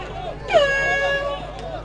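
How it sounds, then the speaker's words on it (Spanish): An air horn blares to end a rugby match at an old lions game, a loud rising blast that holds steady over crowd noise while a commentator talks. "Ya agitan la bocina para el final."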